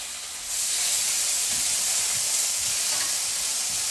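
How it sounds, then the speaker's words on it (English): Banana skins searing in a hot pan for vegan bacon give a loud, steady broadband sizzle and hiss that kicks in after a brief quieter start and holds for several seconds. "So I'm popping them in the pan, getting them nice and flat, because really what we're doing here is we're searing."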